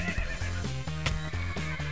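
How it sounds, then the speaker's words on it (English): A pack horse in a modded Minecraft game neighs in repeated whinnying bursts, close and clear, with a faint clopping underneath and no talk. "I think it might be a pack horse."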